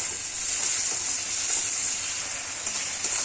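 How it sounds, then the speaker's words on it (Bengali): Masala paste with green chilli frying in a pan for katla fish curry gives a steady, soft sizzle with light crackles, continuous and close, with no voices. "এখানে মশলাটা অনেকক্ষণ ধরে ভালো করে কষিয়ে নিতে হবে, নাহলে কাঁচা গন্ধটা রয়ে যাবে"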